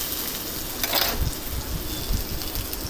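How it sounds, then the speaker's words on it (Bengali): Onion frying in a hot pan with green chili and garlic paste, a steady close sizzle with soft stirring scrapes throughout, no voices. "বেশ ভালো করে ভাজা হচ্ছে এখন"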